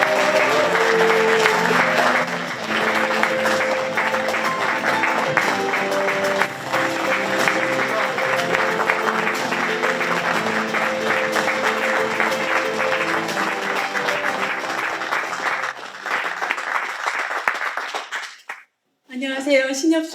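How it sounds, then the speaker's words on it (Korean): Large audience applause at a Korean arts and fair-finance vision ceremony, loud sustained clapping over background music for about seventeen seconds, then a brief pause before a voice begins. "큰 박수"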